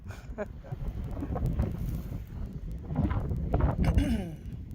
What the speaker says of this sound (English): And the wind has thrillingly kicked up.